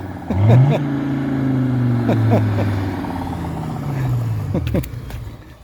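A custom car with a diesel Mercedes engine comes up the road, its low engine drone swelling and sliding in pitch as it nears, mixed with bits of nearby talk.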